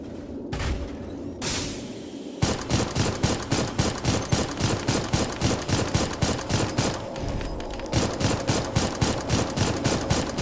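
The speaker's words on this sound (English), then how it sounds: "this is basically a trebuchet cannon, but it fires a minigun instead of just missiles" Rapid minigun bursts fired from a trebuchet-style cannon in the game Dolls Nest: a loud, steady rattling stream of shots after a brief intro, pausing once near the end before resuming.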